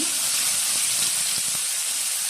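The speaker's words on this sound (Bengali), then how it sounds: "একটু কালো জিরে ফোড়ন একটু পেঁয়াজ বাটা" Nigella seeds and onion paste sizzling in hot mustard oil, a loud, steady hiss close up that continues without a break.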